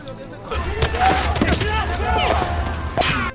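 Gunfire crackles in a battle between Japanese soldiers and clan fighters, with rapid bursts of shots and sharp cracks over a rumbling low background, close and loud throughout.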